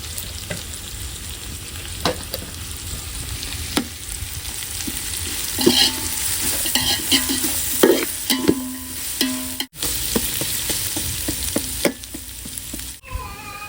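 Sliced onion and cinnamon stick frying in oil in a pan, a steady close sizzle broken by scraping stirs and clacks of a spoon against the pan, with no voices.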